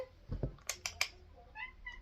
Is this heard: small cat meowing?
yes